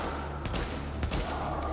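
Gunfire in The Division video game, a rapid volley of sharp shots with two loud bursts standing out over a dense, steady background of game noise.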